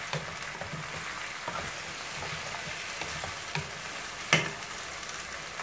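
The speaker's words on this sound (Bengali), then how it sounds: "সুন্দরভাবে নেড়ে মাংসের সাথে মিশিয়ে দিব" Chicken pieces being stirred in a frying pan, a steady soft sizzle with scraping stir strokes and one sharper clack near the end, fairly close and with no talking.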